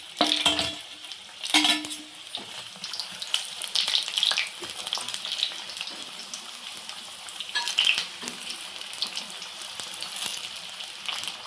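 Chili bajji, green chillies in batter, deep frying in hot oil, a steady crackling sizzle throughout with a few louder bursts and scraping stirs near the start and around the eighth second.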